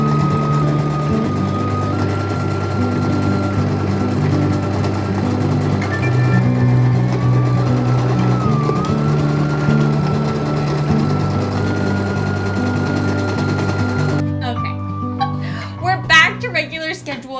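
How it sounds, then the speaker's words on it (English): Sewing machine running zigzag stitches on scrap fabric for a top, a continuous loud mechanical hum with small speed shifts, ending with brief rattling. "Time to do all my zigzag stitches."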